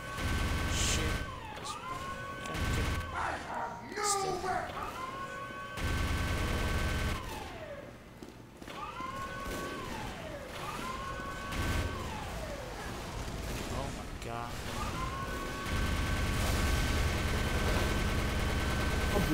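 Team Fortress 2 gameplay fills the scene with dense gunfire, bursts of rapid shots and blasts, plus rising and falling siren-like tones, loud and continuous with a player speaking over the din.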